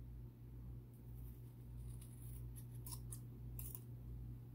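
Scissors cutting paper for altered paperclips, a few faint, close snips clustered near the end over a steady low hum, with no talking.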